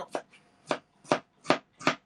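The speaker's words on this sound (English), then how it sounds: "Lots of chopping." Onion and ginger being chopped on a board for Bicol Express, five evenly spaced knife strikes, close and crisp, with quiet gaps between.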